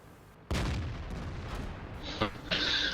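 Several loud tank cannon blasts from a video game, a Centurion tank using Soviet sound effects, a booming shot at the start followed by further heavy reports and rumbling, with no voices.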